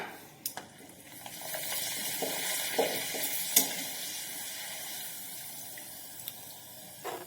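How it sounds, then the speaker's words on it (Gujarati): Oil sizzles softly as wheat-flour papad fries, a continuous crackling hiss with a few sharp clicks and clatters of utensils. "આ રીતે આપણે બનાવેલા પાપડમાંથી થોડા પાપડને તળી લઈશું"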